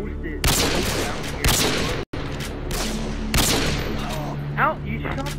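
Video game gunfire from a match between two players: repeated loud, close bursts of shots, several volleys in a few seconds, mixed with excited voices talking over the action.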